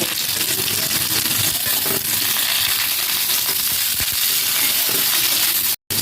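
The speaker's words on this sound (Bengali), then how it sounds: "এবারে আমি এর ওপর দিয়ে দিয়ে দিচ্ছি কুচানো পেঁয়াজ এখানে আমি একটা পেঁয়াজ নিয়েছি পেঁয়াজ দিয়ে আমি আরও একটু ভেজে নেব" Chopped onion fries in a pan with bitter gourd and potato, a dense, steady sizzle and crackle with faint stirring scrapes, loud and close throughout.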